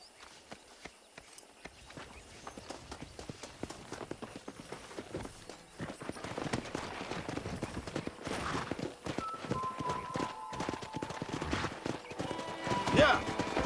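Horses in the Red Dead Redemption video game gallop with a steady clip-clop of hooves and occasional neighs, and the hoofbeats grow busier and louder partway through, with game music and ambience underneath.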